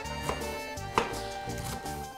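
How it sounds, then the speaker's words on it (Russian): A knife chops fresh cabbage on a board in a home kitchen, a few sharp cutting knocks spaced irregularly, close and distinct over a background of steady tonal hum. "нарезать свежую капусту."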